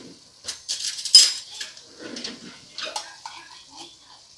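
A small spoon scraping and clinking against a pot of lasagna soup, several quick metallic scrapes and taps in close succession, bright and near, with wet stirring between them.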